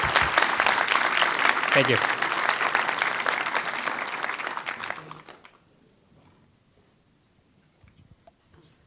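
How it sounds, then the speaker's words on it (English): Audience applause fills a law school moot court room, loud and sustained for about five seconds before fading out, with a brief spoken thanks near the start and quiet room noise afterward. "So I think you all deserve a round of applause."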